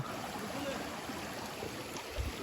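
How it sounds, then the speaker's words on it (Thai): Steady rushing of flowing stream water, continuous and fairly close, with a low thump near the end. "น้ำไหลผ่านนะทุกคนเจอไหม"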